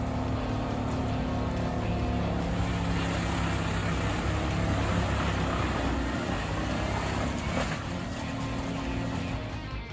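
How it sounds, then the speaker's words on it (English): An OP Ergo 993 wood chipper mounted on a Volvo FH60 truck and powered by a 550 horsepower Scania DC16 engine runs with a loud, steady, dense mechanical roar throughout, with no voices. "The OP Ergo 993 wood chipper mounted on a Volvo FH60."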